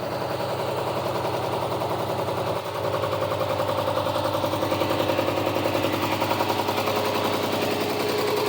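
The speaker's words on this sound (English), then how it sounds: "What I love about this engine, 1970s engine, it is not just blasting smoke everywhere" A 1973 Volvo D4 diesel boat engine on an Ingrid 38 sailboat runs steadily after a cold start, with an even, rapid mechanical chugging that is close and continuous, with no voices.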